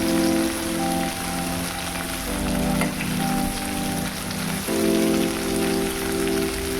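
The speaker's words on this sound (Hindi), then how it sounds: "कुछ देर 4-5 मिनट में इसको थोड़ा तेल में फ्राई कर लेती हूँ" Jackfruit pieces frying in oil, a continuous close crackling sizzle like rain on a surface, with a faint background hum and no voices.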